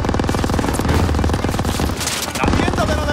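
Machine gun fire in the World War II shooter Call of Duty WW2: dense, loud rapid bursts in a steady rhythm through most of the clip, with a brief lull near the end before firing resumes.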